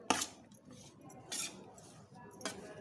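Sweetcorn chaat tossed with chaat masala, with a few sharp clinks of a utensil against the pan or bowl amid soft scraping and stirring, close and fairly quiet.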